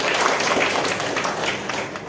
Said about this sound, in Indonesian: Tepuk tangan dulu untuk Bapak.